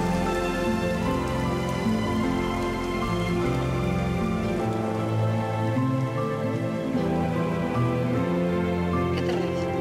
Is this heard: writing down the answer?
no